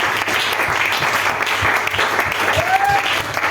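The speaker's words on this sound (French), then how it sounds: "It deserves clappings." A church congregation applauds during a Sunday sermon, a steady dense wash of many hands clapping together, fairly loud and continuous throughout.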